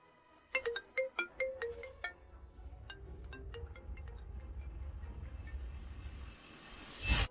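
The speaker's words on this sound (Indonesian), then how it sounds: "Kakek Jin, akhirnya Anda mengangkat telepon saya." A telephone ringtone chimes in a quick series of bright electronic tones as a call is placed, then continues more softly over a low background rumble, ending with a brief loud burst.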